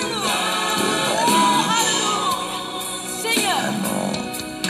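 A church congregation cheers and acclaims during a worship service, a crowd of voices whooping and shouting loudly and continuously with music underneath.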